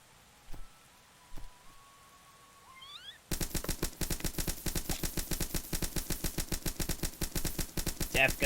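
A death gun fires in modded Starbound, a fast, even rhythm of repeated shots that starts abruptly after a few seconds of quiet with a rising tone and keeps up steadily and loudly to the end.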